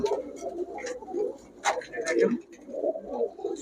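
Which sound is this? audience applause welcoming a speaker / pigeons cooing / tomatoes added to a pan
pigeons cooing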